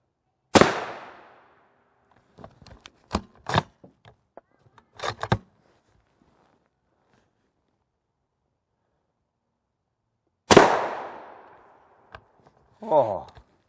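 Rifle shots from a SCAR 17 striking monolithic silicon carbide body armor plates, heard as two loud, sharp outdoor reports about ten seconds apart, with scattered faint clicks and a brief voice in between.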